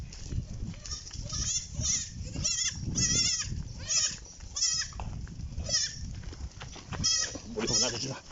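A herd of goats bleating repeatedly while being driven along a roadside, several overlapping nasal cries at close to moderate distance over a low background rumble.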